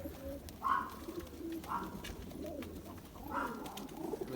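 A male Zeera pigeon coos close by in soft repeated low calls, roughly one every second, with a faint rustling background and no talking.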